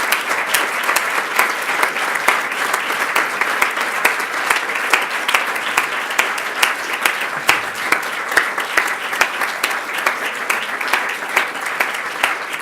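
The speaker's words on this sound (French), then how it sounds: "je vous invite à vous joindre à moi pour la féliciter par un tonnerre d'applaudissements." A large crowd at a retirement ceremony for professors applauds steadily for over ten seconds, the dense clapping holding a constant level throughout.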